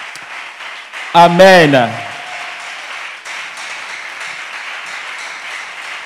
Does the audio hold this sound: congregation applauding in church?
yes